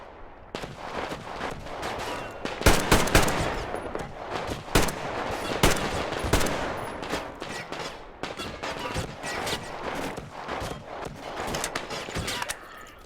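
Sustained gunfire in the Metro Exodus firefight, rapid automatic bursts and sharp single shots cracking loud and close in a dense, irregular barrage throughout.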